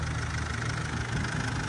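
A Mercedes Sprinter van with a 129-horsepower 2.2 CDI diesel engine idles steadily with a low, even, slightly knocking rumble. It is close and continuous, with no voices.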